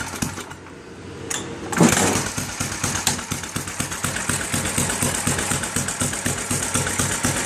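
Gas engine of an Ariens snow blower with a choke, quiet at first, then starting with a loud burst and settling into a steady, rapid, chugging run close by.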